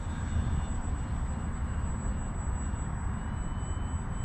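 A radio-controlled model airplane engine makes a flyby during landing practice, with a steady, moderately loud buzzing drone that holds an even level throughout, and no talking.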